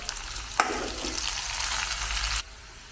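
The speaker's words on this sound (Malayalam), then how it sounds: "കറിവേപ്പിലയും കൂടെ അതിൻ്റെ കൂടെ കിടന്ന് ഒന്ന് മൂത്ത് വരട്ടെ." Onions and curry leaves frying in hot oil, a dense continuous sizzle with a sharp crackle early on, steady and close, then suddenly quieter near the end.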